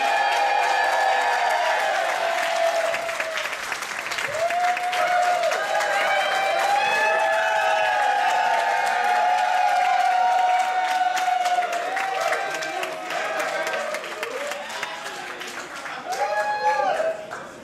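A roast crowd cheers, whoops and claps for the Cheer Seattle squad, loud and sustained, with shouted voices and tonal music-like calls riding over the clapping and swelling again near the end.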